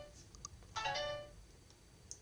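A phone rings in a video game set in a car, a short electronic tone with harmonic layers swelling once and fading over a couple of seconds, amid faint scattered chimes and quiet background.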